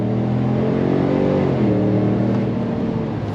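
A supercharged 2024 Chevrolet Silverado Procharger RST pulls hard under throttle, its engine drone rising in pitch, then dipping and climbing again, loud and steady inside the cab.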